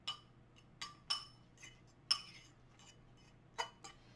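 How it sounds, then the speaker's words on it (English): A fork clinks against a bowl while mixing carrot salad with raisins, dried cranberries and a honey lemon sauce, giving about eight sharp light taps spread irregularly over a quiet background. "I'm just going to take my fork and I'm going to mix it all up together"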